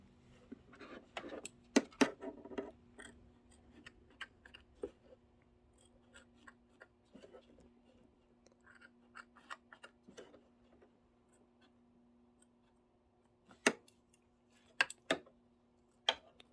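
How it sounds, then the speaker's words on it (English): Small scissors snip loose threads on quilt blocks held in an embroidery hoop, giving scattered sharp clicks that come in clusters early on and again near the end, with quieter handling in between. "I like to just trim in the hoop if I can"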